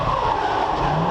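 Car drifting with tires skidding, a loud, continuous rubber squeal blended with engine roar, close and unbroken throughout.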